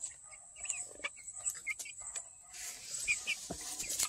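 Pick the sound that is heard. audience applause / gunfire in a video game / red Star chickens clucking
red Star chickens clucking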